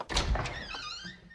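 A door in a sitcom home opens with a quick thunk and a short creaking slide, close and fairly loud, over in about a second with no talking.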